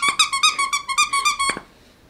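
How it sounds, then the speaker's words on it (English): A squeaky toy inside a stuffed teddy bear is squeezed about eight times in a quick, even rhythm. Each high squeak is loud and close, then the sound stops abruptly. "another bear that actually has a squeaky toy inside."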